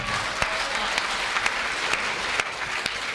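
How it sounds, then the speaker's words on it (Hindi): Steady applause from a crowd at a comedy poetry gathering fills the hall, a dense even clapping with a few sharper individual claps standing out. "तालियां पीछे वाले कम बजा रहे हैं,"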